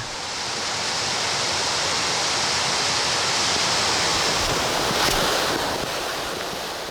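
Suraksan waterfall on Daedunsan mountain, in cold late-winter conditions, pours with a loud, steady, rushing roar that stays constant throughout.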